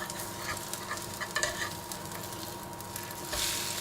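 Masala French toast fries in a pan with a soft, steady sizzle. A few light crackles and pops rise over it, and the sizzle swells near the end.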